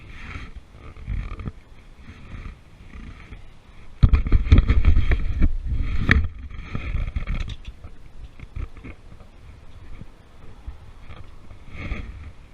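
A Harley-Davidson touring V-twin motorcycle with new exhaust pipes cranks and catches, bursting into a loud, uneven, close rumble of firing pulses that gradually settles and fades to a lower idle-like throb.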